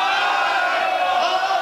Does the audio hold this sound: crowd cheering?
yes